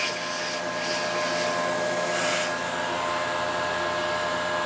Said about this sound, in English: I use the vacuum to get chips so they don't get stuck in there.